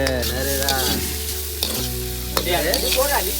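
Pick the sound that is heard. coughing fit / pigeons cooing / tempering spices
tempering spices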